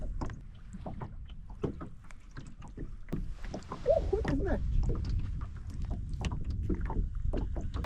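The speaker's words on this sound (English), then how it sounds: "We're going so fast right now with the boat. We are rowing to England." A boat rowed fast across water in Northern Scandinavia, with rhythmic oar strokes and splashing and a steady rush of water, while a person talks over it.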